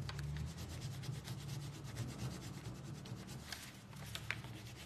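Steady rubbing of a Christmas rub-on transfer onto a gift bag, a continuous soft scraping with faint brisk strokes, close and fairly quiet over a low background hum.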